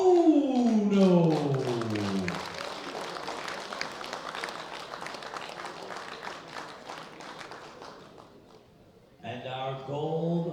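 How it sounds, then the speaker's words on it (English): An audience applauds a Japanese silver medallist at the 2016 World Junior Men's Bench Press Championships. The dense clapping lasts about eight seconds, fades, and is followed by a voice over a public address system. "Please give me a round of applause."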